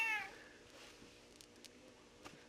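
A stray cat gives a short, fairly faint meow at the start, followed by quiet indoor stillness with a few soft clicks.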